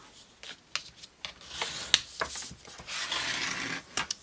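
Paper page being folded and creased for a junk journal, with close, dry rustling, crinkling and sliding in irregular bursts and sharp rubs throughout.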